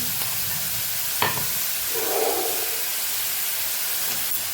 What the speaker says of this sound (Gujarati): ટમેટાનું પાણી પડી જાય ત્યાં સુધી આપણે એને સાતળવાનું છે